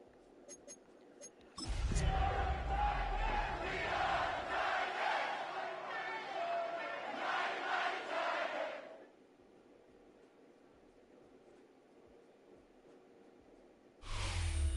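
A stadium crowd roars in an EA Sports NFL video game at Paycor Stadium in Cincinnati during the playoffs, a loud sustained swell of massed voices for several seconds that cuts off abruptly and later bursts back in.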